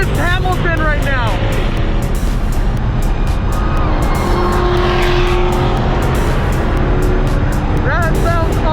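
A Porsche GT3 RS screams around a race track, its engine revving hard with repeated rising shifts and a loud, sustained roar close by, as people talk over it inside the car.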